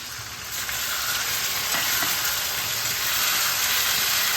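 A paste of ginger, green chili and garlic sautés in hot oil for a Bengali cholar dal with kochu, a loud, dense, hissing sizzle that swells slightly after the first half second and holds steady, with no talking.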